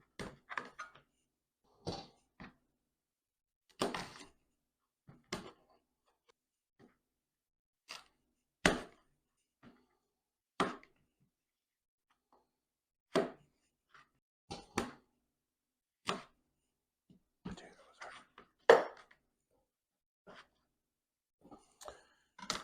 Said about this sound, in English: so potatoes are done being chopped